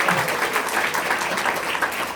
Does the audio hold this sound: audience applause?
yes